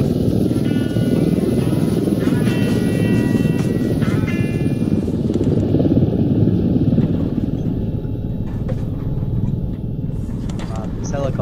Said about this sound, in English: Man, this helicopter sucks compared to that one.